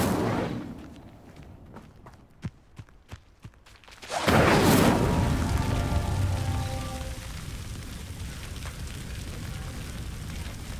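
A few soft clicks, then the Incendio fire spell in Hogwarts Legacy ignites a pyre with a sudden loud whoosh that settles into a steady, crackling roar of flames.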